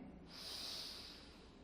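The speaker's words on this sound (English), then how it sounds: "Inhale." A single long inhale through the nose during a power yoga flow, a soft airy hiss that swells and fades over under two seconds, close and quiet.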